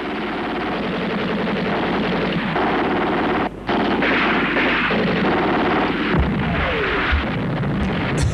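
Gunfire in war footage: repeated sharp shots and bursts ring out over a dense, continuous roar of battle, loud and close, with a brief dropout midway and more scattered cracks toward the end.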